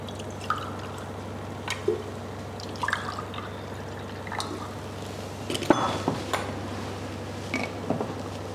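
Ordinary household drinking water is poured into glasses in short bursts, a run of close drips, splashes and small glugs spread across the clip, with no voices.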